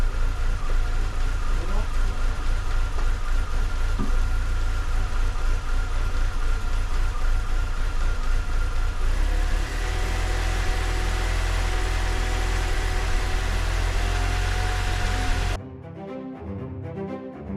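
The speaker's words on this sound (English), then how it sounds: "Rev it now and see." A BMW Z3 engine runs near and steady: a rough idle that shifts to a higher, smoother note partway through, then cuts off abruptly near the end. A voice speaks briefly over it.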